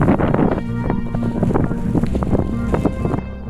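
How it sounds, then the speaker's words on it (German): Sudden hurricane-force wind gusts buffet the microphone on a volcanic crater rim in Kamchatka, a loud, continuous roar with rumbling low buffeting sustained for several seconds. "auf einmal orkanartige Böen aus dem Nichts aufgetaucht sind"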